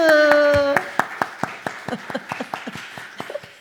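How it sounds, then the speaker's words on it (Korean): Scattered hand claps from a church congregation during a Sunday service, following a brief voiced tone, then thinning into sparse, uneven claps that fade out. "박수."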